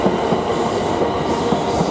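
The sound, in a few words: train arriving at station platform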